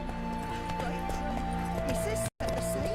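Roach the horse gallops in The Witcher 3, with steady clip-clop hoofbeats running throughout alongside music and voices from the game.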